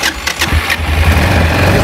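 A 2015 Yamaha XT660 motorcycle engine cranks with a few quick starter bursts and then catches, settling into a loud, close, low thumping idle.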